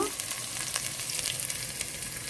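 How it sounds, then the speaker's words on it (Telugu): Basmati rice tipped into a pot of frying masala for biryani, a dense continuous sizzle with scraping stir strokes, close and loud, no talking. "ఇప్పుడు ఇందులో రైస్ వేసుకుందాము"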